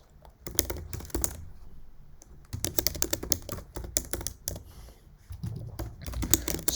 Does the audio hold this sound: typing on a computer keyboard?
yes